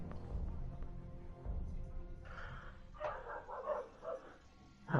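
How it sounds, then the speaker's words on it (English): Dogs bark at something nearby in a few short, fairly faint bursts clustered in the second half, set against steady low background noise. "Yeah, the dogs are barking at something."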